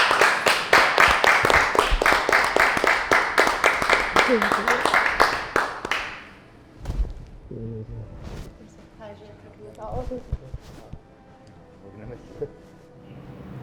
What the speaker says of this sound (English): If you guys want to clap it up for Sarah